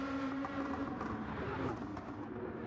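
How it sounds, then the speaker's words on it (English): GT500 race cars at Bathurst rumbling at night, a steady engine drone with shifting tones as they lift off the throttle and downshift, heard from a distance at a low level. "these GT500 cars loaded with power, so you can hear the rumbling of the engine as they back out of the throttle and downshift sequentially through the gears"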